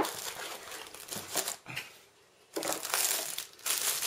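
Packaging from an HP F500G dash cam unboxing rustles and crinkles in two busy bursts broken by a short quiet gap, loud and close with no talking.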